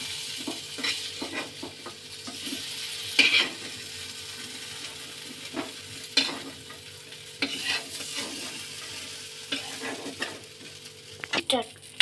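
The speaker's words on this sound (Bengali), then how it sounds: "আমার বেগুনটা আর আলুটা ভাজা হয়ে গেছে, আমি এবার এই মাছের পাত্রেই তুলে দিচ্ছি।" Fried aubergine and potato pieces stirred into a pan of tilapia fish in mustard oil, with a low steady sizzle under repeated scraping strokes of a spatula against the pan.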